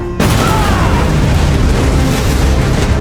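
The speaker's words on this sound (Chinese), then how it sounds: "扔出一枚手雷，" A grenade thrown by a robot in a sci-fi film bursts into a loud, heavy boom that begins sharply after a brief silence and rolls on as sustained, dense rumbling debris noise for the rest of the moment.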